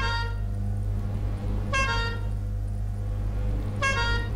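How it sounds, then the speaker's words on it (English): Two short, bright honking blasts from an air horn in the video game Lethal Company, about two seconds apart, ring out over a steady low hum. "air horn."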